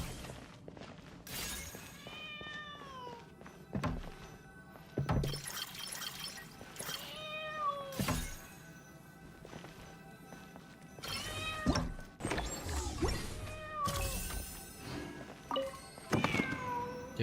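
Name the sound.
cat meowing in a video game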